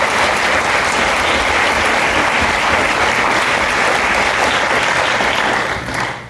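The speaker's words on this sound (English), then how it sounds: "we can give them one preliminary round of applause." An audience at a formal debate on banning gender transition care for minors breaks into sustained, dense applause for the debaters, loud and steady for about six seconds before tapering off slightly at the end.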